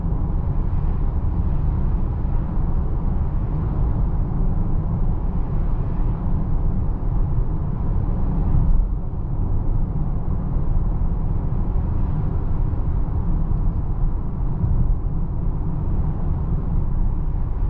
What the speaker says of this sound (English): not a whole lot of wind noise, a little bit of tire noise as you'd expect